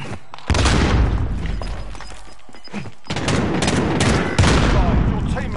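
A grenade explosion in the Warzone video game lands as a loud booming blast, followed by a rumbling burst of gunfire and a second heavy boom, all close and dense.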